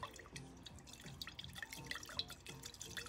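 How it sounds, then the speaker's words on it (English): Water being poured into a glass jar, a quiet, bubbling trickle with rhythmic glugs and drips, close and faint with no talk. "we're gonna get some water into a jar and we're gonna test this out first"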